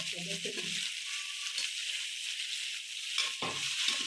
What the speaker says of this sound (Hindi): जीरे को भी थोड़ा सा साफ भून लेंगे अच्छी तरह से। अब इसमें जाएगा 1 अदद टमाटर और 1 अदद हरी मिर्च।